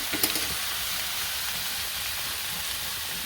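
Onions frying in oil in a village kitchen, a steady broadband sizzle and hiss that runs evenly throughout at moderate level, with no talk.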